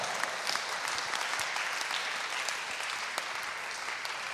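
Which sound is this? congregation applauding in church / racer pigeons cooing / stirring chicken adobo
congregation applauding in church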